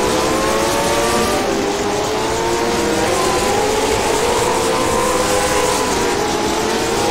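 Late model race cars circling Jefferson Speedway, a continuous loud engine roar with shifting tones as several cars pass, steady and unbroken with no voices.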